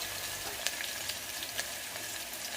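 Curry leaves, chopped onion and garlic cloves frying in hot oil for an Andhra-style sambar, a steady soft sizzle with a few brief crackling pops, fairly faint and with no one talking.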